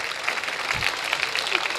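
A stand-up comedy audience claps briefly, a thin, light patter of hands that stays steady for a moment.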